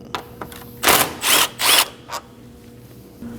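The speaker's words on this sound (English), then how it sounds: "Next up, we're gonna remove this 10mm bolt." A socket wrench backing out a 10mm bolt on a 2011-2016 Kia Optima engine, giving a few short ratcheting bursts with clicks between them, close and loud with no talk.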